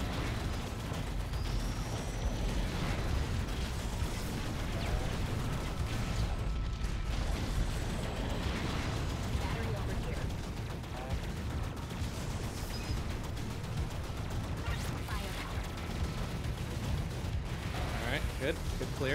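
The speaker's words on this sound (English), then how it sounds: "Wow, that's a lot of explosions." Dense, continuous explosions and mechanical gunfire-like bursts from the twin-stick shooter Assault Android Cactus, a busy, loud wash of rapid blasts and clatter running throughout with talk over it.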